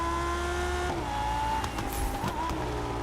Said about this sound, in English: The noise slapping it down the gears, the bop, bop, bop, bop, bop, backfire.